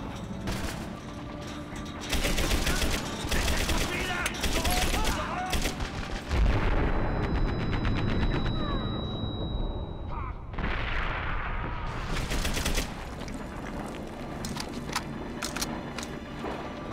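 Gunfire rattles and booms in the video game Medal of Honor: Airborne, dense bursts of shots and explosions overlapping continuously at close range, with a brief lull near the middle before the firing picks up again.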